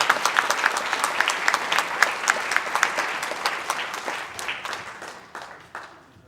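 Audience at a St. Louis Pecha Kucha presentation claps in a crisp, fairly close burst of many hands that gradually thins and fades over several seconds.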